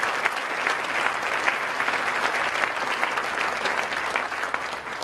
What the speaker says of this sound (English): please give Ken a round of applause for his good work for the arts.